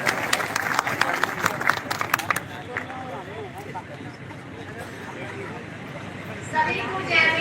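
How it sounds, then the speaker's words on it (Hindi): A crowd at an outdoor rally greets a speaker with brief, scattered applause that fades into crowd murmur and voices, with some distant noise in the background. "जोरदार तालियों से स्वागत है।"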